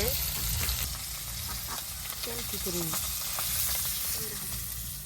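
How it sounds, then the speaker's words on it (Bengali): Fish frying in hot oil, a loud continuous crackling sizzle that fills the scene from start to finish, close up, with a faint voice underneath. "মাছ ভাজিটা এত সুন্দর দেখা যাবে নিচে"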